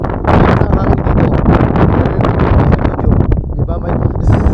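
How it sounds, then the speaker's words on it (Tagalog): Strong wind on rocky Mount Tugew buffets the microphone in a continuous roaring rumble, loud and gusty throughout. "Ingat lang tayo kasi ang hangin dito"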